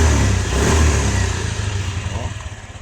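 A Keeway Icon 110cc scooter engine revs loudly up close, then settles toward a throbbing, pulsing idle around 1,600 rpm that fades slightly.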